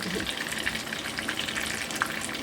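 Steady, dense sizzling of mushrooms frying in a hot pan, with occasional crackles and pops throughout.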